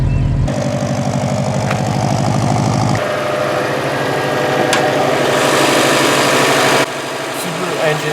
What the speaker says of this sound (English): Subaru engines have a distinctive sound when they run.